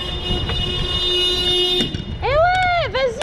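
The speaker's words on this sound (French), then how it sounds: "vas-y, klaxonne ma cousine" A car horn sounds in one long, steady blare, cuts off, and is followed by a wavering, rising and falling tone, loud and close.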